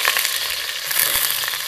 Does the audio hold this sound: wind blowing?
no